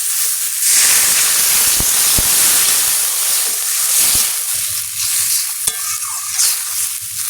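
Water hits frying masala in a pan while cooking rupchand fish in yogurt, bursting into a loud, hissing steam sizzle that surges and settles with a few stirring knocks, close and without speech.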